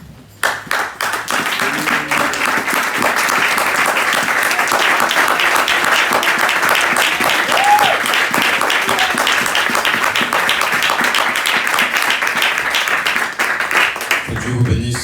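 Congregation in a French-speaking church clapping and cheering together during a Sunday service, loud sustained applause filling most of the stretch before it fades out.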